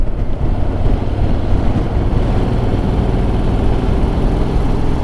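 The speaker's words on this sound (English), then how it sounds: "Ooh, it's windy." Strong wind buffets the microphone on a motorcycle tour along a mountain skyline road, giving a loud continuous low rumble that stays steady throughout.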